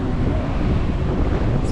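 Wind buffeting the microphone on a choppy, windy day at a Da Nang beach, a continuous loud roaring rumble throughout.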